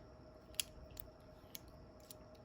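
Small scissors on a Leatherman Free P4 multitool snipping open and shut a few times, quiet metallic clicks spaced irregularly against a faint background hum.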